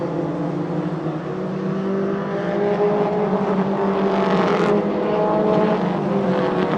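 Allison Legacy race cars with 120-horsepower Mazda 2200 engines race at Monadnock Speedway, a steady, loud blend of engine drone running throughout with a brief higher-pitched surge partway through.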